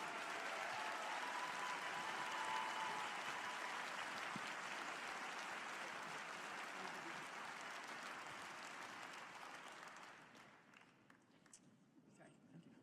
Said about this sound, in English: Give a round of applause for that kind of a change.